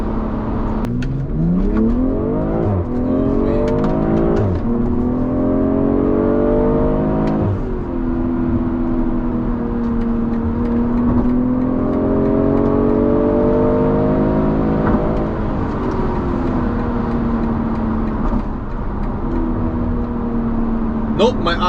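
A BMW M340i engine pulls hard uphill through several gears, the tone climbing smoothly, dropping at each shift and rising again, loud and close from inside the cabin, with occasional voices underneath.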